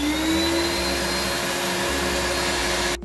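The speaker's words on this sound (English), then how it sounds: "Vacuum cleaner for sucking out things from my router." A vacuum cleaner powered directly by solar panels, with no inverter or batteries, runs at a steady, loud whine with a constant drone, then cuts off abruptly at the end.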